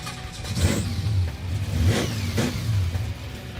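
The V8 of a Pontiac Firebird drag car fires up and revs, with a loud rumbling engine rising and falling through several throttle blips over a few seconds, close by and with no talk.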